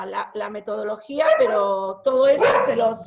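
Pet dog barking and whining indoors during an online talk, short yelping bursts repeated across the clip, close and fairly loud, tangled with a person speaking Spanish over it.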